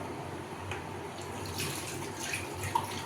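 Something is rinsed a second time in water in a basin, part of a home remedy for a pigeon's stomach, with a steady soft splashing and trickling, close and quiet, with no talk.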